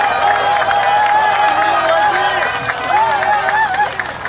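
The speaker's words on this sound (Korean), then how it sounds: "힘찬 박수 부탁드리겠습니다" Political rally crowd for a district mayor by-election clapping and cheering as an official is introduced, a dense sustained roar with a loud amplified voice speaking over it throughout.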